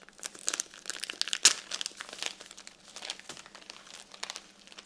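Plastic of a disposable toilet bag for backpacking crinkles and crackles continuously as it is handled up close, with dense, irregular rustling bursts and no speech.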